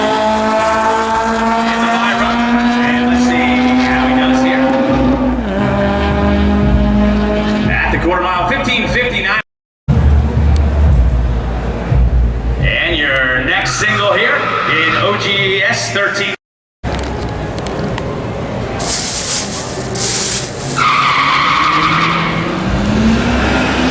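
A 2001 Honda Civic Si with a 2.0-liter engine revs and launches at a drag strip, its engine note climbing through gears in loud, near passes broken by brief cuts, with crowd noise and announcer talk layered under it.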